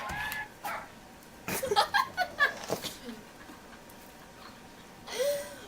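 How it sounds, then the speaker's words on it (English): A small dog barks and yips in a quick run of sharp calls, fairly close, with a short pause and another bark near the end. "I think we have a dog in our studio."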